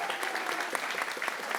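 A crowd at a grand finals ceremony for a waste challenge breaks into a brief burst of dense, steady clapping, moderately loud throughout.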